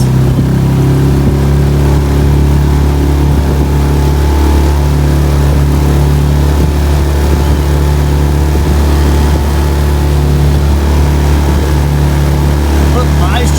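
A small boat's outboard engine on Lake Livingston, Texas, runs at a steady loud drone close by, with wind buffeting throughout.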